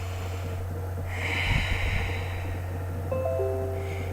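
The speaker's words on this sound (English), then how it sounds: "Take a couple deep breaths." A person takes slow, deep breaths while seated on the ground, with soft drawn-out inhales and exhales over a low steady hum and a few faint tonal chimes.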